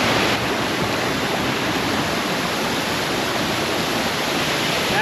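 Farm Brook Falls pours in a loud, steady, unbroken roar of rushing water, heard up close with no talk.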